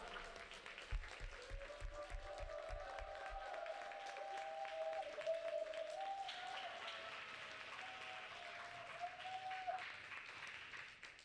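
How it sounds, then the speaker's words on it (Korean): An audience at a church youth retreat applauds as a guest lecturer is invited up, a steady wash of clapping that continues throughout, with a quiet tone and some faint background sounds mixed in. "힘찬 박수와 환호 부탁드립니다."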